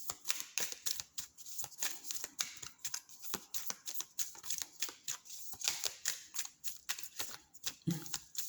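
Tarot cards being shuffled by hand: a quick, steady run of crisp papery flicks and riffles lasting the whole stretch, fairly close and quiet, with no talking.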